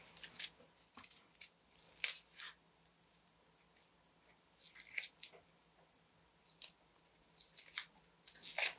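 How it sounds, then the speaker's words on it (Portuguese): Dry onion skin is peeled by hand for Lebanese mjadra, producing short, close crackling and crinkling bursts separated by brief quiet gaps. "Esse aqui é um jeito brasileiro de descascar a cebola"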